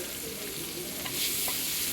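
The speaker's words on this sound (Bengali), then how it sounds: "দিয়ে এটা আরেকটু আমি নেড়ে দেবো।" Catla fish head and tail with home-grown mango, salt and turmeric are stirred in a hot pan. A close, continuous sizzle carries a scraping stir that grows louder toward the end.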